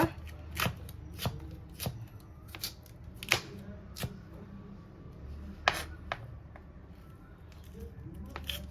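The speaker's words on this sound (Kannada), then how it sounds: "ಕ್ಯಾಪ್ಸಿಕಮ್ ಒಂಚೂರು ಪುಡಿ ಪುಡಿಯಾಗಿ ಕಟ್ ಮಾಡ್ಕೊಳ್ಳೋಣ" A knife chops capsicum into small pieces on a board for homemade samosa filling, giving a run of sharp, close, irregular thuds against a low kitchen background, with no talking.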